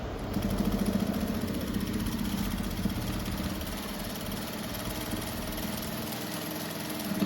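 A sewing machine runs steadily, stitching a double seam on blouse fabric with a continuous mechanical hum and whir, alone and close throughout.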